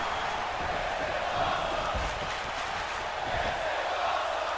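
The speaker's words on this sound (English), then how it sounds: "The crowd's chanting." A wrestling arena crowd roars and chants steadily at a ladder match, a dense, continuous wash of voices with no gaps.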